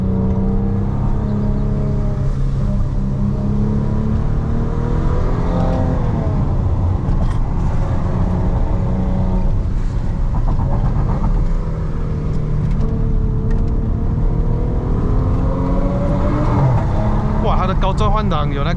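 A 2015 Maserati Ghibli S V6 engine drones steadily from inside the cabin on a mountain road in Malaysia, pitch rising and stepping through gear changes, with people talking over the loud continuous engine note.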